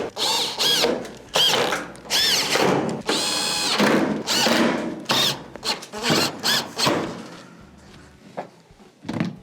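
Screws being driven back in around the perimeter of a Whirlpool stove panel, a series of short close whirring bursts from a power driver separated by brief pauses and handling clicks.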